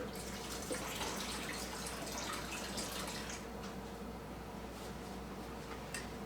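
Water trickles and splashes steadily into a Berkey filter's reservoir, a soft continuous pour that is fairly faint and even throughout.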